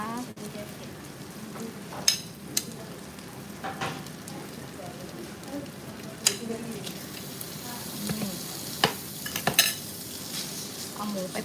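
Pork and curry paste stir-fry in a pan, with a low sizzle under repeated scraping and clinking of a utensil against the metal, scattered sharp knocks spaced unevenly throughout.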